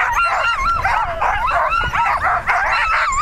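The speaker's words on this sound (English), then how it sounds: "Now we're back in the chute for the number two team, Courtney Agnes of Yukon men fame." A sled dog team at the start chute of the Yukon River Sled Dog Championship women's race yips, whines and barks excitedly in close, overlapping, near-continuous bursts.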